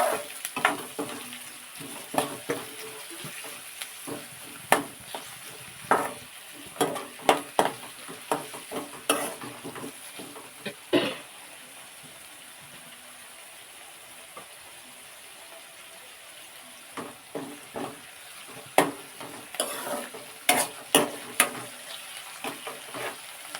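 Tomatoes sizzle softly in a pan while being cooked for upma, with frequent sharp scrapes and clinks of a spoon stirring in irregular bursts, a quieter stretch midway, and no talking.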